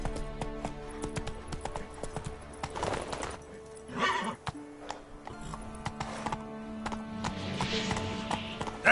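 Roach, Geralt's horse in The Witcher 3, whinnies and clip-clops in loud, close bursts over a bed of game music, with a louder snort and neigh in the middle and hoofbeats coming and going.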